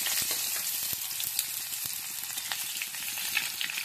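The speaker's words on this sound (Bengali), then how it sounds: "পেঁয়াজ কুচানোগুলোকে ভেজে নিচ্ছি একটু।" Chopped onions fry in mustard oil with bay leaf, dried red chilli and whole cumin, giving a constant close crackling sizzle with sharp pops scattered through it.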